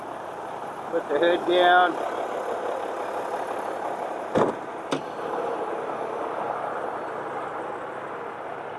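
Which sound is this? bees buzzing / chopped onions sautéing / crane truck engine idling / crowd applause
crane truck engine idling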